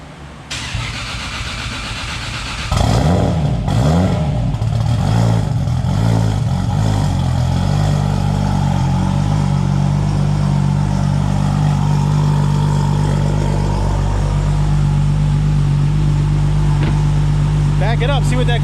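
A Toyota Supra's engine cranks and fires after a clutch job, catching with a burst and then settling into a steady, loud idle that drones on close by, with voices nearby.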